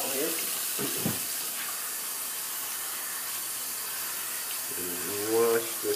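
A faucet runs in a continuous hissing stream while soap is rinsed off a face after a shave, close and steady, with a brief voice near the start and another toward the end.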